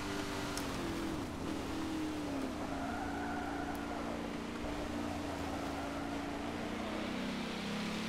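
Opponent's race car in Forza 7 at Spa, running close alongside with a steady engine drone and shifting pitch sweeps, continuous and fairly loud throughout with no talking.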